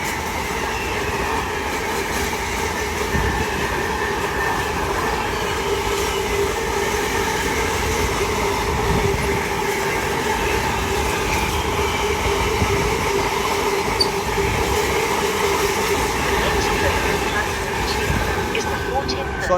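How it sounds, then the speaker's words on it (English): Freight train rolling through a mainline station, a continuous loud rumble of wagons and wheels on rails with faint clatter and squeal, steady throughout with no break. "Freight train passing by."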